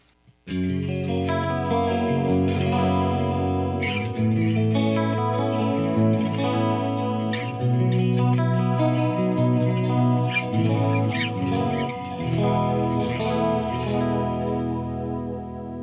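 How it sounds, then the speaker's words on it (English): Clean electric guitar chords through a Mesa Boogie Badlander 25 amp's clean channel, shimmering with a Julia chorus and trailing Flashback 2 delay echoes, played alone and sustained throughout. "I have the Julia chorus, and I'll put on my Flashback 2 delay as well"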